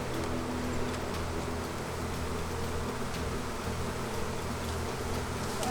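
Honey bees boiling out of a beehive, a dense, continuous buzzing swarm close by, steady and loud throughout with no talking.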